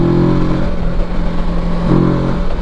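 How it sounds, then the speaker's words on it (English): A Kawasaki Versys 650 motorcycle engine hums loudly and close, easing off briefly before revving back up with a rising, buzzing pitch as it accelerates. "When you start accelerating, the revs are actually pretty nice."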